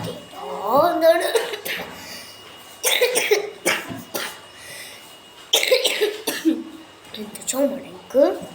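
Several coughs and throat-clearing bursts, close and fairly loud, scattered among speech in a domestic kitchen setting, with gaps of quieter background between them.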